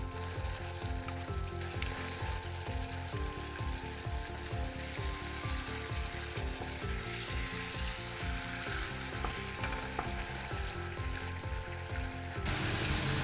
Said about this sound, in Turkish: Etlerimiz tencerede kızarmaya başladılar.